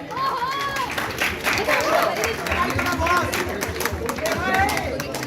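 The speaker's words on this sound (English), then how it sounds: "Please give a huge round of applause for Subrata sir." A crowd of students applauds a professor at a Teachers' Day felicitation, with steady clapping mixed with cheering and overlapping voices throughout.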